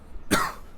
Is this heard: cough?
yes